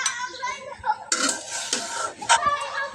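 Okra curry served into a bowl, with scattered clinks and scrapes of a spoon against dishes close up, mixed with a voice talking over them.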